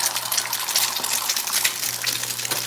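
An egg drops into hot, sizzling olive oil in a frying pan, giving a loud, steady crackling sizzle that runs through the whole moment without pause.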